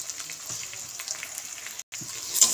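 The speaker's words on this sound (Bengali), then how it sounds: "এবার আমি মশলাটা ভালো করে কষিয়ে নেব" Spice paste with ground coriander, Kashmiri chilli powder, salt and sugar sizzling softly in a pan for a jackfruit mutton curry, a faint steady crackle and hiss with a brief pause.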